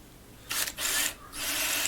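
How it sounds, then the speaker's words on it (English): A hand drill bores through brass, two bursts of harsh, raspy grinding close by after a quiet start, broken by a short pause and then resuming steadily. "I'm using the hand drill to finish up the hole"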